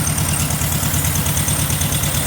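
A car engine idles steadily up close during a check for a suspected vacuum leak, a constant low rumble with an even hum and no talking.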